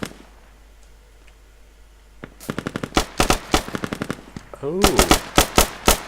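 Video game gunfire: a quiet stretch, then rapid bursts of sharp automatic shots, loud and close, with a brief voice exclamation among them.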